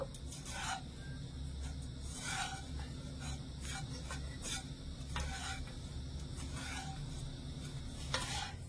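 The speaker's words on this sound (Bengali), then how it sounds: "এবার আমি দিয়ে দিচ্ছি এবং সবকিছু ভালো করে মিশিয়ে নেব।" Vermicelli being stirred in a pan with powdered sugar and milk powder for a semai recipe, with repeated quiet scrapes and rasps of the spoon over a low, faint background hum.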